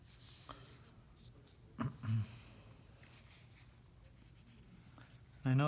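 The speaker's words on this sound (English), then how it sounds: "the graphite in the direction that the hair swirls, right? Create some of the texture that that hair is producing." Graphite pencil scratching across paper in swirling strokes to build hair texture: soft, dry, continuous scraping with a few louder rubs, faint and close, with occasional quiet breaths or voice in the background.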